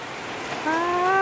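Rain falls steadily over rice fields in an even, hissing patter, joined midway by a rising tonal hum that holds to the end.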